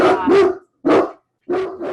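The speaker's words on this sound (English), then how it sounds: "sorry, I have a big dog" A large dog barks three times in heavy, booming bursts, close and loud, with short silent gaps between them.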